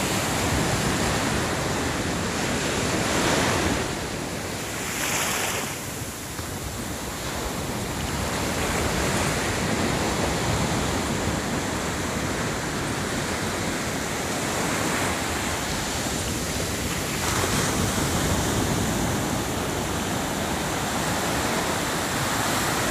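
Steady surf and wind on a tropical Caribbean beach at Casuarina Beach, a continuous broadband wash with waves swelling and breaking at intervals, fairly loud and unbroken, with no talking.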